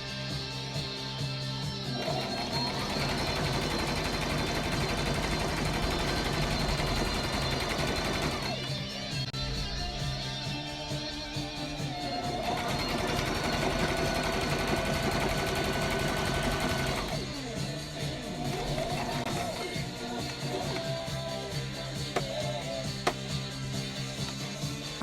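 A sewing machine stitches seams joining yellow fabric on a blazer, running in several sustained bursts of rapid mechanical chatter separated by short pauses.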